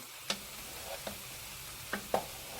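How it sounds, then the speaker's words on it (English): A spoon scrapes and clacks inside a pot of rice dressing, several sparse knocks spread apart over a quiet kitchen background with a faint simmer. "let me stir up my rice"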